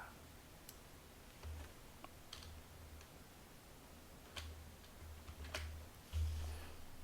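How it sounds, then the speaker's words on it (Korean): Buttons pressed on a machining center control panel: a scatter of soft, sharp clicks and taps at irregular intervals over a faint low hum, each press brief and close by, with no talk. "MDI를 누르고 그리고 프로그램이라는 버튼을 누릅니다."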